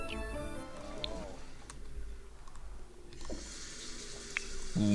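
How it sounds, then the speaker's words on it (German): Faint, steady hiss of a running shower in The Sims 4, a soft continuous spray sitting low beneath game music and brief chimes. "Wenn du mit Duschen fertig bist"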